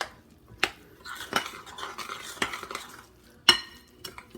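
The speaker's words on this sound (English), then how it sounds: "stir that in until it's nice and well incorporated" A spoon scrapes and clinks against a bowl while cornbread mix is stirred into corn pudding batter with melted butter, giving irregular close knocks and soft scraping at a moderate level.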